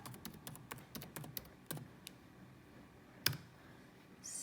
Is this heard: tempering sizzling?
no